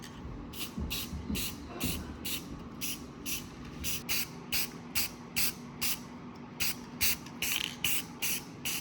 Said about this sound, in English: So I'm gonna be spraying it with a little bit of lacquer